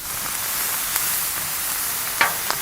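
Shrimp sizzle steadily in beef fat on a Blackstone griddle, a loud continuous frying hiss with a few sharp crackles and pops near the end.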